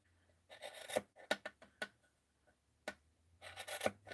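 Scissors cut through decorative trim pieces for tassels, producing a handful of short, close, dry snipping and rasping bursts separated by brief pauses, with no talking.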